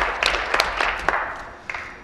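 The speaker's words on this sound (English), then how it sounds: "I think we all need to give her a huge round of applause" Applause in a parliament chamber after a maiden speech, scattered individual claps rising to a brief burst, fairly close and loud, then thinning out to a few sharp claps.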